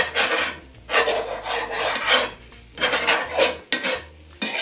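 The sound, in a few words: cutting up food with a spoon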